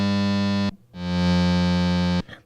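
Two sustained synthesizer notes, bright and buzzing with a distorted tone, the second swelling in gradually under a lengthened ADSR attack before holding at full level and cutting off.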